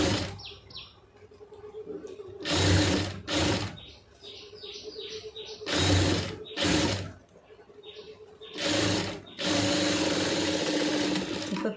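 A sewing machine stitches thick fabric in close, loud bursts of rapid rhythmic clatter, several runs separated by short pauses with quieter mechanical clicks between them.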